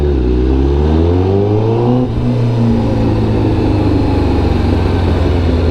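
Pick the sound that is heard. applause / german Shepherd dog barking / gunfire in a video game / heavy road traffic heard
heavy road traffic heard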